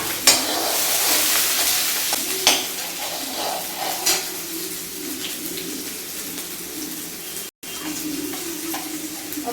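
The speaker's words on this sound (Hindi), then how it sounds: "लहसुन डाल दूँगी और ये वाले प्याज डाल दूँगी और ये हरी मिर्च डाल दूँगी" Garlic, onion and green chilli sizzle steadily in hot oil for kadhi, with an even frying hiss broken by a few sharp clinks of a spoon against the pan, close and continuous.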